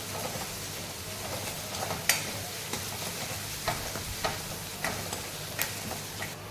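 Finely chopped onions frying for mutton keema in a pan, a steady low sizzle with irregular scraping stirs and clicks of a utensil against the pan, close by, with no talk.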